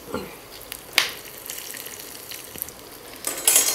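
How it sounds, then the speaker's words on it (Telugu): Peanuts, chana dal and dried red chillies fry in hot oil for a festival prasadam, giving a steady close sizzle with scattered crackles and a few sharper clinks, and no talking. "నూనె బాగా గాగిన తర్వాత పల్లీలు వేసుకోవాలి పల్లీల తర్వాత ఇక కోపు గింజలు పోసుకోవాలి కోపు గింజల తర్వాత ఎండుమిర్చి"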